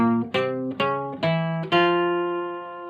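A twelve-string guitar picks single notes of an F melodic minor line, five bright ringing plucks in a steady rhythm, the last one left to sustain and fade, played alone.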